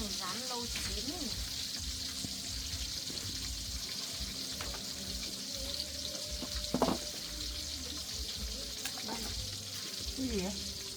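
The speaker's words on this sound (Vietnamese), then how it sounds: "Cái này rán lâu chín rồi." Food frying in a pan with extra fat, a steady sizzle running throughout with brief clinks and stirring, while people talk nearby.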